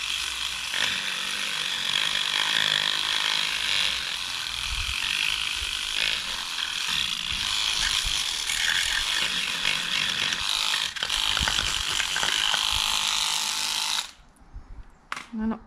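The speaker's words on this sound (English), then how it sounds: "So I've got this massive electric toothbrush to get in there and" A large electric toothbrush buzzes steadily with a rattling, ratchet-like whir as it scrubs inside the rear light reflector of a Rover P4, running for about fourteen seconds before stopping abruptly.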